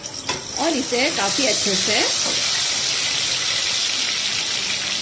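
Spice masala paste hitting a cup of hot oil for a mixed vegetable dish sets off a loud, crackling sizzle that starts abruptly and keeps hissing steadily, with a voice speaking briefly over the start.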